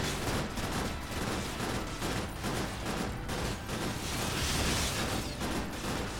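A medium machine gun firing in the game Cryptark: a dense, continuous rattle of rapid shots blended with mechanical clatter, steady and loud throughout without any speech.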